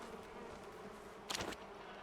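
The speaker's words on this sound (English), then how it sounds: "Wait. I hear bees." Bees buzz in the cozy life-sim game Palia, a faint steady drone under soft ambience that swells briefly into a closer, louder buzz near the end before fading back.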